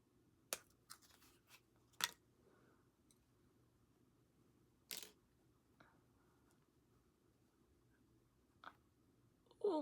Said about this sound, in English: got some Temu scissors here